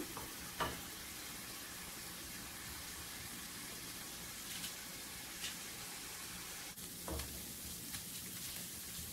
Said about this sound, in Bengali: পেঁয়াজ রসুন ভালো করে ভেজে নিয়েছি